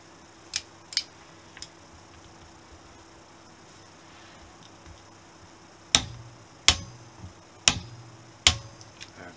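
Torque wrench set to 27 Nm tightens cylinder head bolts on a Honda CB125 S, giving a few faint clicks early on, then four sharp, loud clicks spaced about a second apart.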